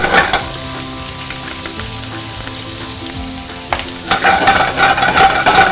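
Onion frying in a pan for adobong octopus, a steady loud sizzle with crackling that surges brighter near the end, heard alone.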